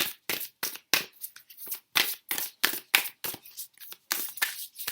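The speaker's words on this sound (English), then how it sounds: "This is the Whispers of Love, by the way, oracle cards. They are quite difficult to shuffle." Whispers of Love oracle cards being shuffled by hand, a series of short crisp riffling bursts with brief gaps between them, close and fairly loud.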